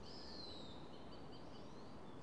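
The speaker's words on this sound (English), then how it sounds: "You can hear them kind of yelling at each other. You can also hear all the alarms of the other birds" Young Cooper's hawks yelling in a Pacific Northwest forest in summer, mixed with alarm calls from other birds; faint, distant thin calls drift over a steady hiss of background noise throughout.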